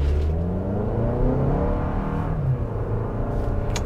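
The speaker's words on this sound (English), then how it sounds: "let's do a slight acceleration run here and let's see how quick this vehicle is" A 2023 Toyota RAV4 XLE Premium engine accelerates from inside the cabin, its loud, rising drone climbing steadily in pitch with no one speaking.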